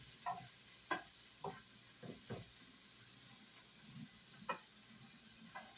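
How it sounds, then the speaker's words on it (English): Fat being stirred around in a pan as it chars, with a quiet, steady sizzle under a series of sparse scraping stirs and taps spaced through the clip. "You can stir this fat around some"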